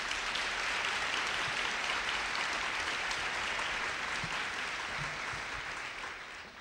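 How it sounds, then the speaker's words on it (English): Breakfast-event crowd at a school partners gathering gives the staff a round of applause, a full, dense clapping sound holding steady throughout and tapering slightly at the end. "Please give our staff a round of applause."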